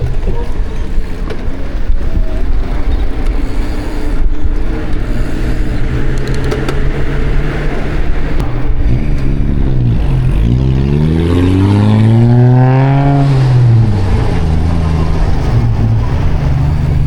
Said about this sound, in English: Traffic's pretty hectic.